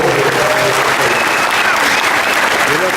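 An audience at a park's pass-member appreciation event bursts into loud, continuous applause, a thick wash of clapping that holds steady from start to finish.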